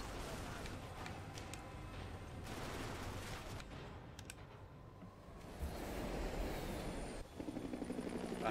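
A steady helicopter rotor drone fills the scene in the video game Max Payne 3, loud and continuous, with bursts of gunfire crackling over it and no voices.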